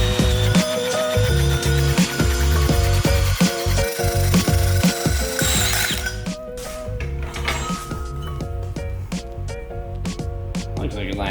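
A power tool cuts a notch into metal near a weld line, a loud rough grinding with rhythmic clanks and rattles that drops to a quieter scraping toward the end.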